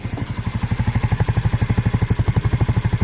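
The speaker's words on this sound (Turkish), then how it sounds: "Motorun sesi bu arkadaşlar." A Honda CBR 125 motorcycle engine idles close by with a steady, rapid thumping pulse that stays even and loud throughout, no voices.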